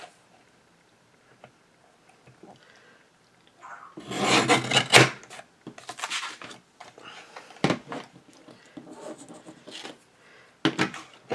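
Card stock being cut for St. Patrick's Day cards: a quiet start with faint rustles, then a loud scraping, rasping burst of cutting, followed by shorter cuts and handling noises at close range.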